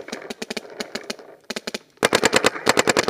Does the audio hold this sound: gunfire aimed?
yes